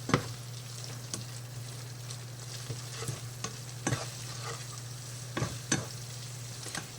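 Squash fries gently in brown butter in a pan, a soft continuous sizzle broken by repeated scraping clicks of a utensil stirring it.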